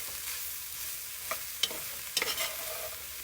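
Sausage, onion and garlic browning in a pan for sausage and kale soup, a soft steady sizzle with a few sharp scraping stirs clustered near the end, no voices.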